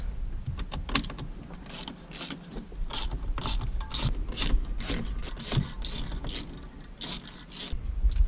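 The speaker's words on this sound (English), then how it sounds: "Next, I'm going to go ahead and remove these four bolts right here." Ratchet loosening four T30 steering wheel bolts on a Chevrolet Silverado truck interior, rapid close clicking in repeated bursts through the whole stretch, with faint rubbing of metal and no talking.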